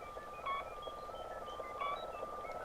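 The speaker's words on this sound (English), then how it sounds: "if we hold number 5, we can toggle on and off the background sounds of the Batcave." The Batcave ambience from a Mike Lane Bat-Circuit plays as a steady electronic hum with wavering, whale-like tones drifting over it, continuous and moderately quiet with no voices.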